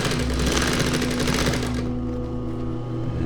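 A sewing machine stitches down a pant leg inseam, a rapid close mechanical chatter that runs fast for a couple of seconds and then eases into a slower, lighter rhythm.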